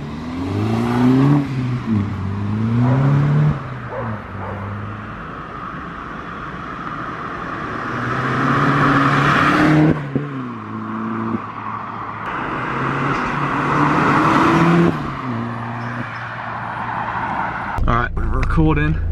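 Remapped Mini Cooper S accelerating hard through several pulls, its engine note climbing repeatedly through the gears with loud revving surges separated by shifts, close by, with people talking over parts of it.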